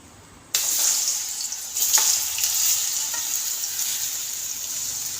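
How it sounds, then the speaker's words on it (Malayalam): Banana pieces dropped into hot ghee burst into a sudden loud sizzle that settles into a steady close frying hiss, with a few stirring clinks, no talking. "നെയ്യ് ചൂടായിരിക്കുമ്പോൾ പഴം ഇട്ട് കൊടുക്കാം."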